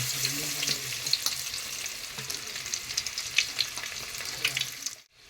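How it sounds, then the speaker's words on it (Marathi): Garlic hits hot oil in a pan and crackles with a dense, steady sizzle close by, bright and continuous until it cuts off abruptly at the end. "त्याला तापला आता मस्तपैकी लसूण टाकूया"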